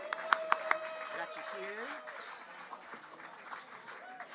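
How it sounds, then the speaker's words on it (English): An audience at a live music show claps at a small venue, starting with a few sharp claps and then settling into a moderate, scattered round of applause, while people talk over it. "Give her a nice round of applause."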